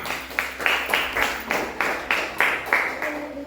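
Primary school pupils in a fourth-grade classroom clap together in a rhythmic, evenly spaced pattern of about a dozen loud, crisp claps, close by, with some voices faintly underneath.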